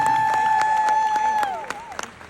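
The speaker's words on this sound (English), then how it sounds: "So do me the honor of giving her a round of applause" Audience applause at the 2023 SUNY Old Westbury convocation: a dense wash of clapping from a large crowd, with a steady high whistle-like tone over it for most of the stretch, thinning into scattered claps near the end.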